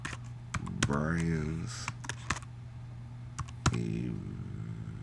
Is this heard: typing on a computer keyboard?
yes